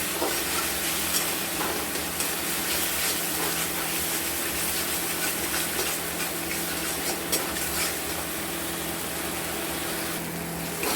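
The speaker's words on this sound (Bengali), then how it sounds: "জল দিয়ে আমরা এটাকে কষবো যতক্ষণ না মশলা থেকে তেল ছাড়ছে" Dry spices are sautéed with a little water for a chickpea curry, giving a steady, dense sizzle and stirring scrape that runs unbroken throughout, close and loud, with no talking.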